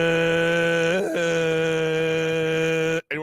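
A voice imitates bagpipes, pushing out a steady droning tone with a bent, wavering note near the middle, loud and close, before breaking off abruptly near the end.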